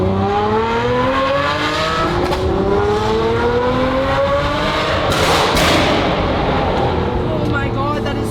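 A Ferrari 599 engine revs hard while driving, a loud, continuous roar with rising pitch sweeps through the gears and heavy thumps, as people talk excitedly inside the car.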